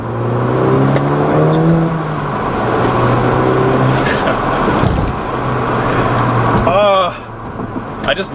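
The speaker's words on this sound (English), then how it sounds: "I just love the noise of a turbo." Turbocharged engine of a 2006-2009 Volkswagen Golf MK5 GTI revving and pulling hard on a street corner, a loud rising drone that climbs through gears, drops, then ends with a quick whoosh and flutter.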